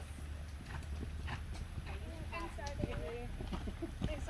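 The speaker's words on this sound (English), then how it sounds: "Please canter your horses." Horses canter in a riding arena with soft rhythmic hoofbeats under a steady low background rumble, while a voice talks faintly over them.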